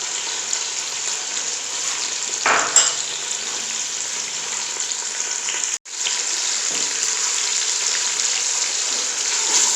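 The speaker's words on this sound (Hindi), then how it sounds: "अब हम इसमें प्याज डालेंगे और इसको ब्राउन करेंगे" Chopped onions hit hot oil in a pan and fry with a loud, steady sizzle that carries on unbroken, with one brief sharp stir or clatter near the start and a short dip midway.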